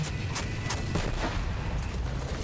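Gunfire in the video game Borderlands 3, a rapid series of sharp booming shots layered over a continuous low rumble, loud and close, with no one talking.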